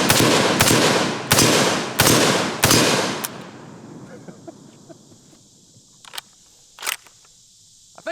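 A PTR-91 rifle, an HK-style clone in .308, fires five rapid, loud shots about half a second apart. Each shot has a booming tail, and then comes a quieter stretch with a few faint distant clanks.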